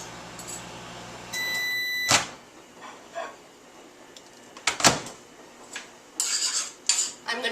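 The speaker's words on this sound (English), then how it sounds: "put it back in the microwave for another 10 to 15 seconds" A kitchen microwave oven heating a butter and onion mustard sauce for a sandwich hums steadily, then beeps, with sharp clunks of the door and clattering dishes interrupting the drone.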